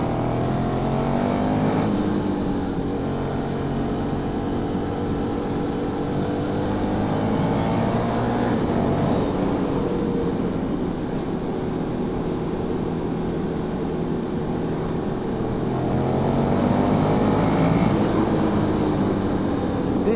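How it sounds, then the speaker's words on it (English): A 2021 KTM 1290 Super Duke R 1300cc V-twin engine drones steadily while riding on a wet road, its pitch rising and falling with throttle changes, loud and continuous with wind rush. "1300cc V-twin, absolutely sings, and it's just so smooth"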